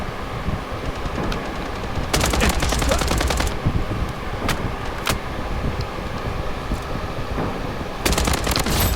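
Gunfire from the video game Bloodstrike, with bursts of rapid shots around two seconds in and single sharp cracks later, over a steady hum of game ambience, no talk.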